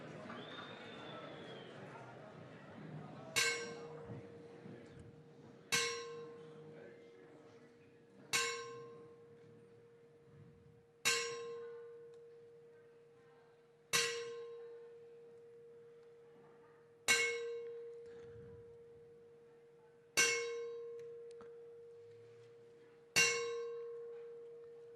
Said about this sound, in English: give him the 10-bell salute